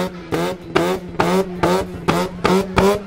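A Mazda RX-8 rotary engine revs in quick repeated bursts, about seven sharp throttle blips in three seconds, loud and close with a raspy exhaust tone and no voices.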